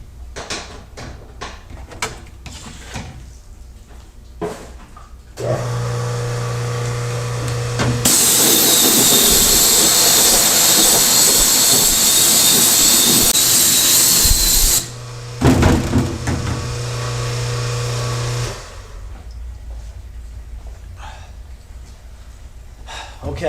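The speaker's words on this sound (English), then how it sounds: "So now I'll just get the pressure washer running for a second and give it a really good rinse down." A pressure washer blasts a 24-mesh screenprinting screen in a loud, sustained spray lasting several seconds, framed by a humming motor and sharp breaths before and after.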